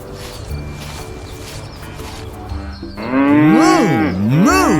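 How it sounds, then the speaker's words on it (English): A big black and white cow moos loudly and close by, two long rising-and-falling calls filling the second half after a quieter stretch of background sound. "It's a big, black and white cow. Moo, moo, moo,"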